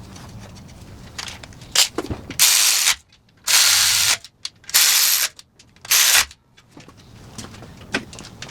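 Ratchet clicking in quick bursts while parts are tightened on a Mazda Miata engine in a home garage, several loud close runs of rapid pawl clicks separated by short pauses and quieter handling noises.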